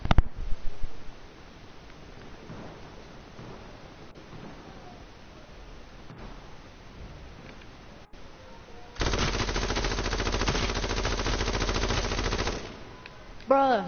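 Sustained burst of light machine gun fire in the H1Z1 battle royale game, a loud dense roar of rapid shots lasting several seconds after a stretch of quieter ambient rustle.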